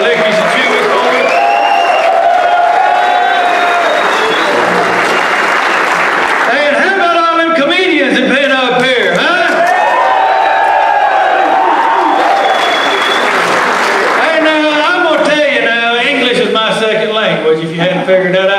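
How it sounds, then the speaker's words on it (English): Sustained audience applause and cheering fill a USO Vet to Troops comedy show for service members, loud and continuous throughout, with crowd voices and shouts mixed into the clapping. "give a good round of applause for the volunteers back here in the back"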